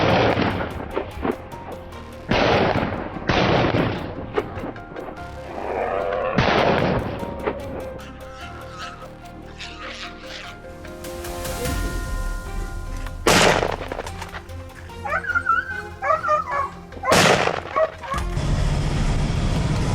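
Rifle gunshots ring out in a field while hunting wild boar, several loud sharp blasts with booming tails and irregular gaps, set against rustling outdoor noise, with no speech.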